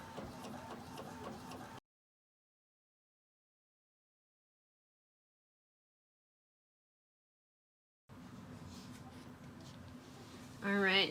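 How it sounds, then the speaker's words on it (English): A printer runs a double-sided print-and-cut sheet for a Cricut, with steady mechanical whirring for about two seconds, a gap of silence, then resuming feed noise that swells into a louder burst at the end. "And then back to the printer we go."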